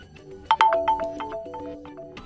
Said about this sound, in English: You can select your new notification sound from the preset list.